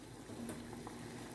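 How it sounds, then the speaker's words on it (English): Water boils in a saucepan on a cooker, a steady close bubbling hiss throughout with no talk. "That is the water boiling"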